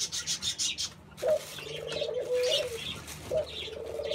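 Pigeons coo in soft, low repeated calls while being fed grain, following a quick series of rustling wingbeats or scratches at the start, all fairly close.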